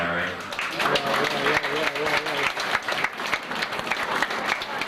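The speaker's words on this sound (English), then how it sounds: "Give a round of applause" Guests at a wedding reception give a steady round of applause, many hands clapping together for several seconds at a moderate distance.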